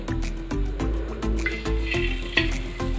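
Sweet boondi batter drops into hot refined oil and fries with a steady, bubbling sizzle, broken by soft clinks of a spoon or ladle.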